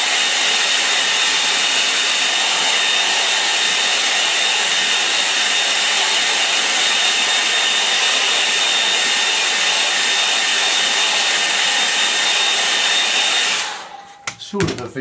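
A hair dryer blows over a watercolour snow-scene painting, a loud, steady close whoosh running continuously for about thirteen seconds before switching off with a clatter.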